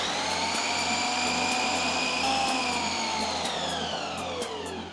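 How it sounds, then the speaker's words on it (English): Food processor grinding digestive biscuits into crumbs, a loud continuous high whine with a steady motor hum, holding level throughout with no talking. "I'm just transferring the biscuits to a food processor"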